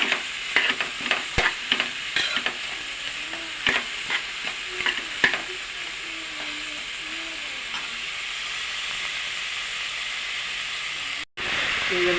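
Onions frying in a pan give a steady sizzle and hiss, with clicks of stirring strokes early on that fade into a smooth frying hiss. A brief dropout comes near the end.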